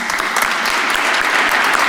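Steady applause from an audience at a French-language evening event, dense and continuous clapping filling the room with no pauses.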